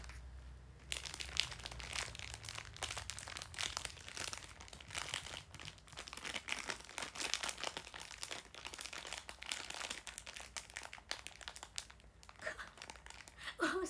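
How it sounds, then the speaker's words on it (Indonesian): A crunchy biscuit being eaten close to the microphone, with a steady run of crinkly crunching and crackling bites for over ten seconds and no talk over it. "Wow, aku makan biskuit."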